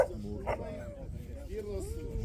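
Hunting dogs at a hunt in Lithuania give faint yips and whining barks, distant and low under a murmur of people talking.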